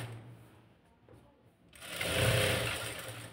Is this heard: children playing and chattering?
no